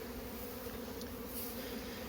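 A steady, low droning hum of many honey bees buzzing together inside a hive, continuous and close, with no voices.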